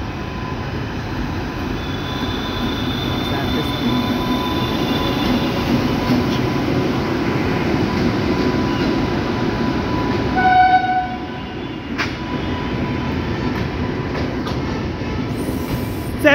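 A Tanakpur–Delhi Jan Shatabdi express, hauled by a Ghaziabad-based locomotive, rumbles steadily past for the whole stretch, with a brief horn-like tone and wheel clatter midway and no talking.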